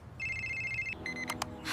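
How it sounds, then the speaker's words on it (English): A mobile phone rings with a short electronic ringtone: two bursts of bright melodic tones over a low background hum, moderately loud with no one speaking. "Oh, my phone is ringing."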